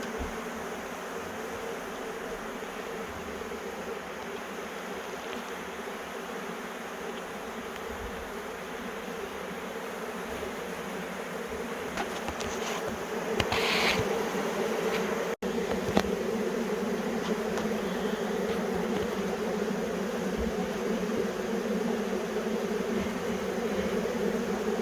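A honey bee swarm hums and fans at a bee box, a steady sustained buzz of many wings close by, rising slightly in intensity midway and continuing without any talk.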